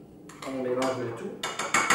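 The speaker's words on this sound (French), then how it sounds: "On mélange le tout." A spoon clinks and scrapes against a bowl while shrimp are stirred into a yogurt sauce for a Danish smørrebrød, with light irregular taps and a few sharper knocks.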